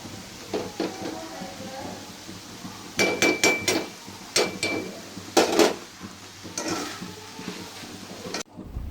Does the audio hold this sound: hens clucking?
no